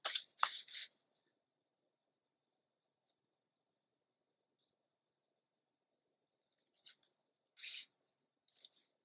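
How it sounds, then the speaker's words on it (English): Scissors trim scrapbook paper in a few short, crisp snips, a quick cluster at the start and a couple more after a long quiet pause, close and soft, with no talking. "I think I'm going to need to trim down one of these just a smidge"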